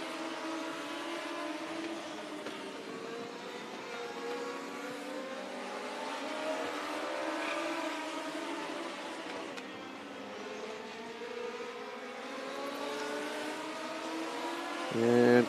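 Old-school race cars, including a white number 14, circle a track at a King Kenny Old School Classic event, their engines a continuous distant droning roar that rises and falls as they lap.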